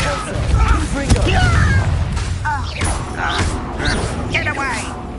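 A Confringo fire spell explodes in the Hogwarts Legacy video game, a loud booming blast with crackling fire amid game combat noise, overlapped by character voices and shouting.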